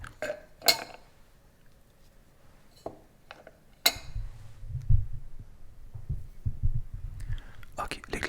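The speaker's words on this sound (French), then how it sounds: "Alors on commence par mettre les glaçons, la vodka et le jus d'orange dans la partie inférieure du shaker." Ice cubes drop into the lower part of a cocktail shaker, a few sharp glassy clinks and rattles, close and crisp against a quiet background, followed by softer handling noise and low thumps.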